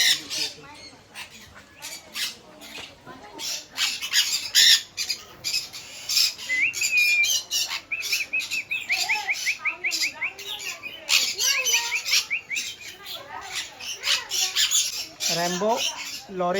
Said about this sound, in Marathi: हे पोपटाची एक प्रजाती आहे नंदय कॉर्नर किती आहेत बघा आतमध्ये